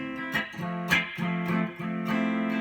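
A few strummed guitar chords ring out one after another, each struck sharply and left to sustain, quiet and close with no talking.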